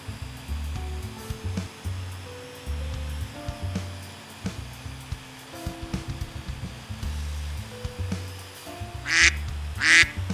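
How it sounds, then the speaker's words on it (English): A table saw with a riving knife rips narrow strips of maple, its motor a steady low hum broken by recurring bursts of cutting, with two sharper, louder bursts near the end. "I cut a few strips of maple to hide the edges"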